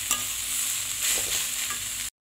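Banana stem curry with coriander powder is stirred in a pan: a soft, even sizzle with light scraping strokes, cutting off abruptly to silence at the end.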